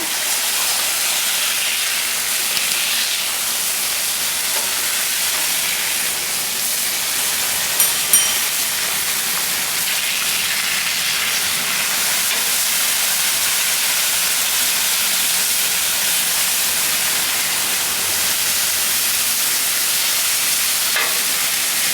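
Smash burgers sizzle hard on a Blackstone griddle as they are flipped, a loud, dense hiss that runs unbroken, with a couple of brief spatula scrapes and taps partway through.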